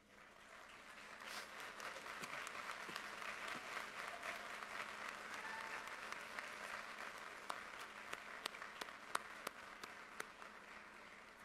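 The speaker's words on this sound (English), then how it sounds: "I ask you, our graduating class, to stand together in applause to express thanks to your parents, grandparents, and other family members" A graduating class at a 2018 college commencement applauds their parents and families, a long, broad wash of many hands clapping from a large crowd, steady and somewhat distant with a few sharper nearby claps standing out.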